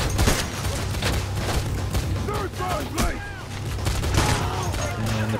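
Gunfire from the heist video game PAYDAY cracks out in a busy exchange of repeated shots and bursts at varying distances, with mechanical clatter and voices mixed into the fight.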